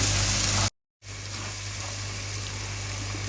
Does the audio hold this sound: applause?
no